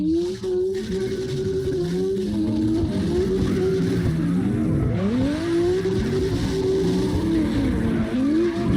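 Drift cars in the CarX Drift Racing Online video game skid and slide continuously, with loud engine drone and sweeping tire squeals rising and falling across the whole stretch, close and sustained.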